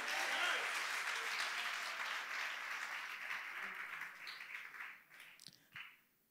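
Congregation at a church service applauding together, a dense, loud wash of clapping that holds steady and then thins out and fades toward the end.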